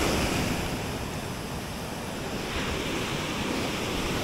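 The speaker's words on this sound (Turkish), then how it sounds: "Yalnız dalga çok." Sea waves surge and wash continuously on the Giresun coast at Kötek during a fishing trip, a steady broadband roar with wind buffeting the microphone.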